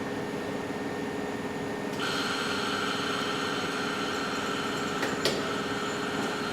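An induction motor on an electrical control panel starts at a push of the start button and sets up a steady mechanical hum with a tonal whine, continuous and fairly loud, with a small click partway through.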